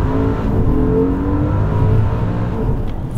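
A 2022 Maserati Ghibli Trofeo engine roars under hard acceleration, a loud sustained drone with rising tone as the car picks up speed, heard from inside.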